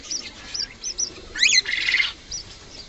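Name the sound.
cockatiel pair chirping in a loft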